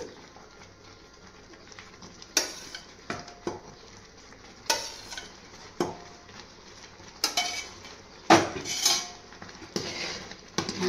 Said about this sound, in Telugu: ఇది చూడండి, కలుపుతూ ఉంటే చిక్కబడుతుంది.